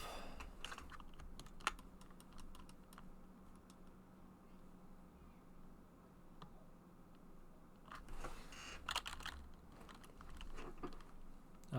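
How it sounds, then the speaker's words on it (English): Someone types on a computer keyboard, steady soft clicking with occasional sharper keystrokes, near and quiet, no voices. "Yeah, I'm typing those right now"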